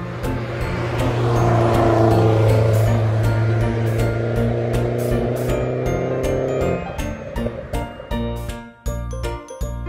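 A drag car engine drones with a steady, loud harmonic roar that falls away after about seven seconds, leaving scattered clicks and clatter from toy vehicles.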